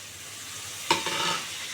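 Tomato dropped into a pan of frying onions sets off a sudden loud sizzle that settles into steady frying hiss with a little stirring, close by.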